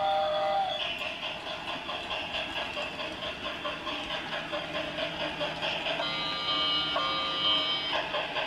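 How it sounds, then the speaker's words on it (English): A battery-operated toy passenger train's electronic whistle sounds in long, mournful sustained tones over steady rhythmic chugging, close and fairly loud. "the mournful whistle on it"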